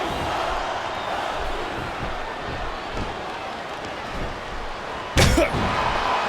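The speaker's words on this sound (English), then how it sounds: "Wow, listen to that chant." A virtual arena crowd in WWE SmackDown vs Raw 2008 roars and chants in a steady, unbroken wash of massed voices. A sharp slam or thud cuts through near the end.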